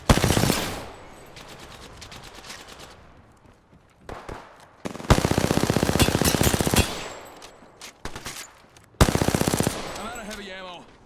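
Rapid machine-gun bursts from Apex Legends gameplay, loud and close, several long sustained volleys separated by short pauses, with scattered single shots and quieter stretches between them.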